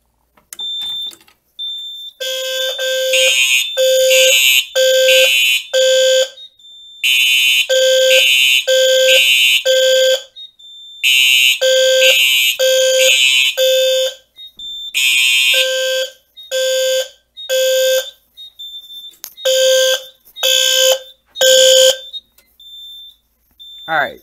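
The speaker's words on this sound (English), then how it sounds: "they actually sound right and sound together, both on temporal 3" Two linked fire alarm panels sound together in a temporal-3 pattern: loud, shrill triple bursts of horn tones repeating with short gaps. A steady high chirp continues between the bursts, with no talking over it.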